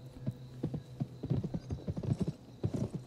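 Horse hooves clip-clop in a steady galloping rhythm during a horse race in the PS2 game Gun, close and fairly loud with no talk over them.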